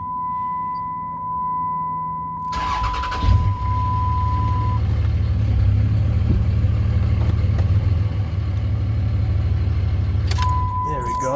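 Old Cummins 5.9 24-valve diesel truck with 186,000 miles idling with a steady low rumble, then dropped into drive and creeping forward, a persistent tone beeping over it at the start and end, voices talking along.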